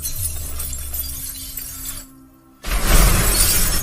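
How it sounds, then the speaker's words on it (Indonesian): A car is smashed in a fantasy action film scene, heard as a loud close crash of shattering glass and crunching impact bursting in after a short lull, with no talk. "Ia menembus mobil dan menabrakkan dirinya ke satu mobil di belakangnya, membuat mobil tersebut hancur."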